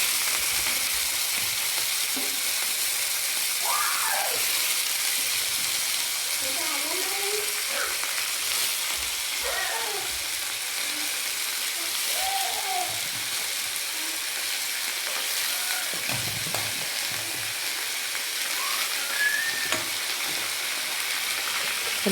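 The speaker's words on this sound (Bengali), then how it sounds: "এখন পাতাকপি ভাজবো।" Cabbage frying in a pan sizzles in a steady, close hiss throughout, with occasional scraping stirs and faint background sounds.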